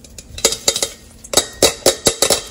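Golden-brown fried Brussels sprouts tumble into a bowl with a string of sharp, close clattering knocks, arriving in quick uneven bursts over a couple of seconds.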